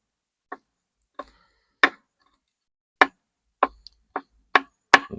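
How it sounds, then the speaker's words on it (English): A knife chops garlic on a cutting board for smoked sausage and cabbage, sharp close taps landing one at a time at an uneven, unhurried pace, about nine strikes with silence between them and no talk. "Just take a knife and chop it up real good"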